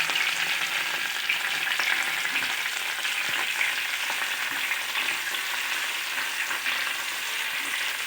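Green chillies frying in a pan for a gulivindala fish curry, a steady close sizzle with light stirring, no talk.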